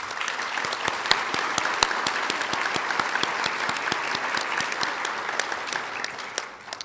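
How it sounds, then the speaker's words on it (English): Applause for the Color Guard at a Women's History celebration, a steady wash of clapping from a moderate crowd with a few sharp, distinct claps standing out near the microphone before it tapers off. "Let's give them a round of applause."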